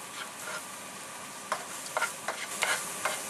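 Spices being stirred into a hot frying pan of corned beef and vegetables, a few light scrapes and clinks over a steady low sizzle, close, with no talking.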